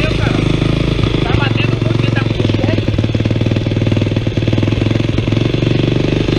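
A Honda NX motorcycle engine runs loud and close at a fast, steady idle, with a rapid pulsing throb and no clear rise or fall in revs. A voice can be heard faintly under the engine.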